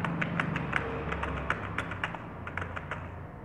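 Numbers being entered on a computer keyboard in a fast, steady run of close, crisp key taps over a faint background hum.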